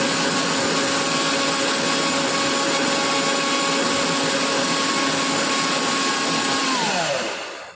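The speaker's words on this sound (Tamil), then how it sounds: "நம்ம போய் தேங்காய் அரைச்சிக்கலாம்" A kitchen mixer grinder grinding coconut whirs loudly and steadily, a constant motor whine that winds down and stops at the end.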